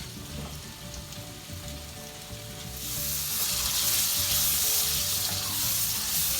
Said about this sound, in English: So we're going to add the tomatoes now to your onions and your garlic.